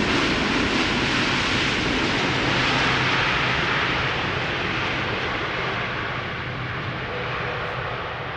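An airliner roars with thrust reversers at Schiphol Airport, a broad, loud, sustained rushing rumble that holds steady and eases slightly toward the end, with no voices.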